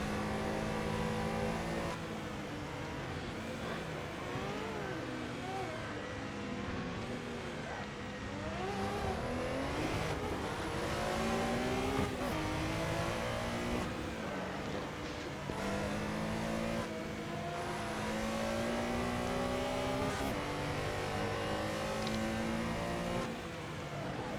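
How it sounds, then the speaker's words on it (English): Historic race cars tightly packed at Laguna Seca, a Ford Capri among them, roar toward the finish line with loud, sustained engine revving and shifting pitches as they accelerate, continuous for the whole stretch. "A lot of cars very tightly packed together, coming towards the finish line."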